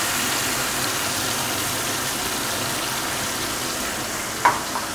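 A spice paste of white sesame, green chilli, ginger and tomato sizzles with taro in a pan, a steady soft frying hiss with one small clink near the end.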